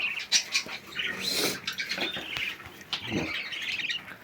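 Harsh canary squawks and chirps, close and repeated in irregular bursts, with faint rustling between calls.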